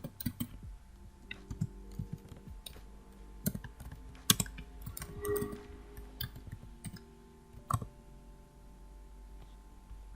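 Keys clack on a computer keyboard during coding work, with irregular close clicks and short bursts of typing that include a Ctrl+S save shortcut, over a faint steady hum; no talking.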